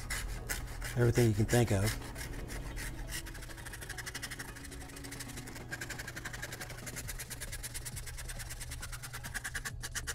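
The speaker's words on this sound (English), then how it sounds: "When I say file, it was more like, you know, a rasp and a knife and, you know, Dremel tool" A rasp files away at a Boba Fett left vambrace armour piece, giving a steady, close scraping rasp that runs the whole stretch, with a louder burst of rough rubbing near the start and a soft voice speaking briefly.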